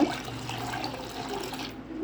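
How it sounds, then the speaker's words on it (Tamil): Water pours steadily from a small pot into a vessel while making pani puri water: a continuous close, splashing rush that stops abruptly near the end. "இப்போ வந்து இதில் ஒரு சொம்பு அளவுக்கு நல்லா தண்ணி ஊற்றிக்கோங்க."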